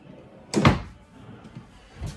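A drawer on a 2023 Jayco Eagle 28.5RSTS RV kitchen island slides and shuts with one short, close thud, followed by quiet room tone and a faint knock near the end.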